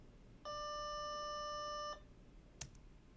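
A single electronic bell tone rings steadily for about a second and a half, then stops, followed by a brief click in a quiet room.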